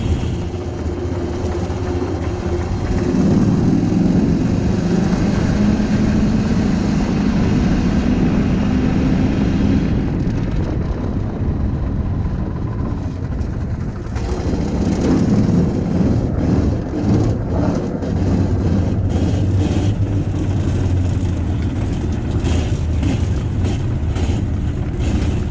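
A Baja buggy engine runs while the buggy drives, a loud, continuous rough drone with rising and falling pitch, mixed with heavy wind buffeting against the microphone and a brief dip in the middle.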